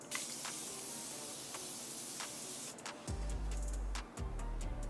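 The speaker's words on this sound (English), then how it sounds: "I'm gonna go ahead and spray myself down" Setting spray misted onto a face during a makeup routine, a soft airy hiss with short spritz bursts up close, followed by a low droning hum in the background.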